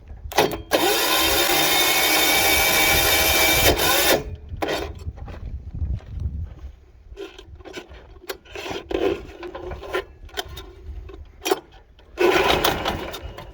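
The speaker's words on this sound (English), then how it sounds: "I'm going to crank it over a little bit with the compression release in." A Bolens HT-23 tiller engine is pull-cranked with the compression release in, giving a loud whirring rasp for several seconds, followed by shorter scraping cranking pulls and handling noises, with another burst at the end.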